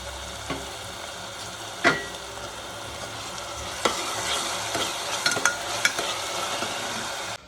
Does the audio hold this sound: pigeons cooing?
no